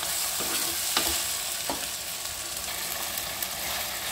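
A single large tomato frying with spices in a pan, stirred now and then: a steady sizzle with several distinct spoon scrapes and clinks over the top, no talking.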